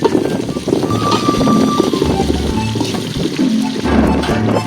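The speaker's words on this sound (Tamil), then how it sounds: "இருக்கிற காத்துக்கு உள்ளே போட்டுக்கிற எல்லாம் பறந்துரு போலக்குதுங்க" Strong outdoor wind roars and buffets the microphone in a continuous low rumble during open-air cooking, with gusts rising and falling throughout.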